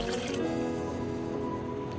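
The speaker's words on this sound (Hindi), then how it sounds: "ये हमारा यखनी वाला पानी जो बच गया था वो हम इसमें ऐड कर देंगे" Leftover stock water is poured from a container into a pot of Sindhi biryani, a steady close trickle and splash of liquid running throughout without pause.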